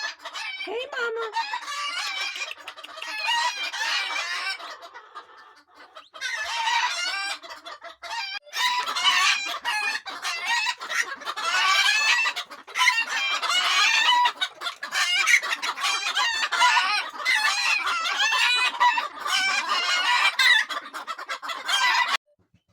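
Chickens cluck busily and a rooster crows on a backyard hillbilly chicken ranch, a dense, continuous flock chorus close at hand with occasional voices underneath.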